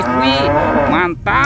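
A cow gives one loud, close, drawn-out moo that fills the short moment, with a quick exclamation from a person near the end.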